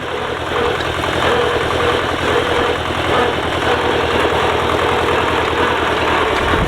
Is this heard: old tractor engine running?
yes